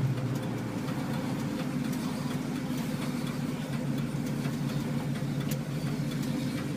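A 1971 Mustang Fastback's engine drones steadily while driving, a continuous low rumble with no talk over it.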